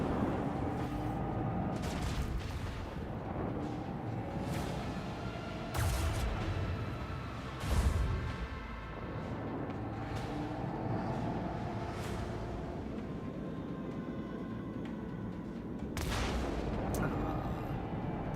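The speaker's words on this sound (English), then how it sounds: "They blew up our torpedoes." Torpedoes are blown up in a space battle in the video game Warhammer 40k Rogue Trader, giving scattered muffled booms and bursts over a steady, dense low rumble of combat noise.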